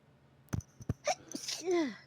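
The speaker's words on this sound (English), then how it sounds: "And the first thing she does is sneeze," A woman sneezes close to the microphone, with a couple of sharp intake breaths building to one forceful sneeze and a trailing voiced exhale at the end.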